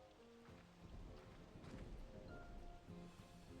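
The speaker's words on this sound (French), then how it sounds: "Oh, de l'orage." Soft thunderstorm rain in the video game Slime Rancher 2 patters steadily with a faint rumble, mixed with quiet tonal game sounds, all at low volume.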